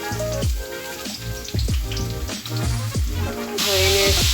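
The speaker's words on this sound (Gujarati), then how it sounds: "હવે એને સારી રીતે સાતળવાનું છે ઘીમાં." Grated carrot, a kilo of it, sizzling in melted ghee in a pan, a steady close crackle and hiss with repeated scraping stirs, the frying growing louder toward the end.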